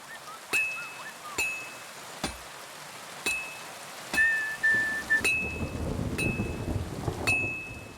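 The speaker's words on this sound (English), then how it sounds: "Pissing down rain again." Rain and rolling thunder in the video game Kingdom Come Deliverance 2, a steady downpour hiss with repeated sharp cracks and rumbles at regular intervals.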